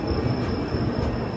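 The Kerala Express sleeper train starts rolling from Bhopal Junction with a low rumble of wagons and wheels and a thin steady high squeal, heard from aboard without voices.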